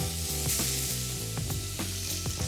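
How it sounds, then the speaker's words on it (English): Red onions sizzle loudly in hot bacon fat in a pan, a close, dense crackling hiss with a few sharper pops and stirring knocks, no voices. "So I'm gonna toss the red onions right into the bacon fat."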